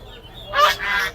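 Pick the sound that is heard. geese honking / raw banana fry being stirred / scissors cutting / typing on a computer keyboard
geese honking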